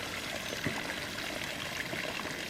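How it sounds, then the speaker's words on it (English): A small waterfall pours steadily beside a river walk along the River Weaver, a continuous mid-level rush of water with no voices. "Nice little waterfall sound."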